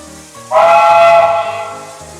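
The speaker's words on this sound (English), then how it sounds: "The Reading T1 still uses the 136 whistle but a higher pitch." A higher-pitched steam whistle of the Reading T1 locomotive in a Roblox train game, sounding one loud sustained chime-like blast that starts suddenly and fades with a hiss over background game audio.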